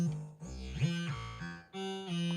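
A synthesizer runs through a Belgrade multi-mode filter on its bandpass output, playing a few short, quiet gliding tones that sweep and pause across a couple of seconds, with no voices.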